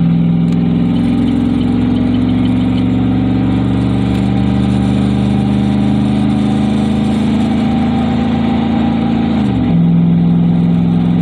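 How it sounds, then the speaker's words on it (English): A 2009 2500HD pickup with a 6.0 gas engine towing about 5,000 lbs at half throttle, a loud steady engine drone with road noise that holds constant, then the pitch drops sharply near the end as it shifts. "I'll actually go half throttle on it. That's half throttle."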